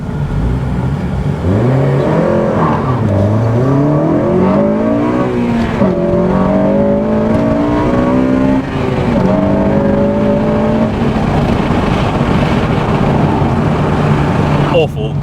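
A Honda Civic Type R FN2 accelerates hard from a flying start, its loud engine climbing in pitch through several gear changes, with a voice talking over it.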